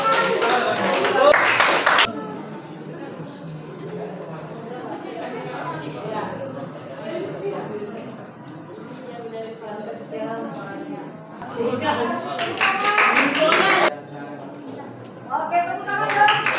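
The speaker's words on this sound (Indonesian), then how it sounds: "Oke, terima kasih, tepuk tangan." Classroom audience applauding in bursts, with loud broadband clapping at the start and again mid-clip and at the end, separated by stretches of chatter and talking.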